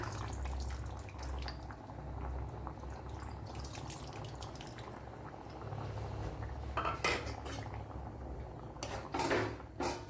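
Tamarind water poured into a boiling curry pot of cucumber and brinjal pieces, a steady bubbling simmer with liquid splashes and clinks of pot and utensil, a few louder knocks near the end.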